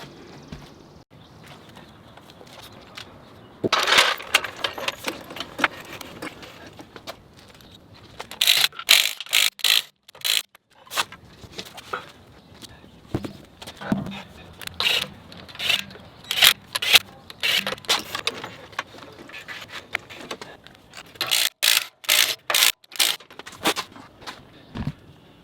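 Wheels on a Tesla Model X raised on jack stands are swapped, with rapid ratcheting bursts from a tool and clicking, clunking mechanical handling in irregular clusters, fairly close, with little talk.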